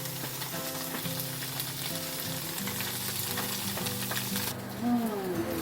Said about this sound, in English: Now that's how the tofu is getting cooked.